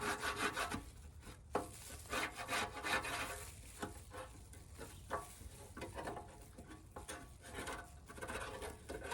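A flat-edged tool scrapes the grease channel of a Tahoma 900 grill clean in a series of quiet, uneven rasping strokes and scuffs, close and soft, with no talk.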